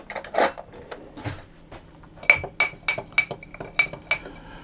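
A spoon mixing flour, salt and baking powder in a bowl for a mincemeat Bakewell tart gives a soft scrape, then a run of bright ringing clinks against the bowl, about eight taps in a loose rhythm, close and alone.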